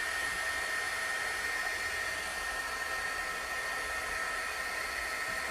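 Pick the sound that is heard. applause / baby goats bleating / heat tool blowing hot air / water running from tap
heat tool blowing hot air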